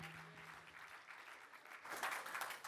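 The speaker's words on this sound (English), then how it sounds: "A round of applause, please" Audience applause from a crowd at a business summit, steady clapping throughout that swells louder in the final second or so.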